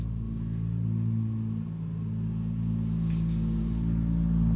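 A BMW E36 engine, not yet tuned and running rich, idles with a steady low rumble and a slight uneven pulse, close by with no voices over it.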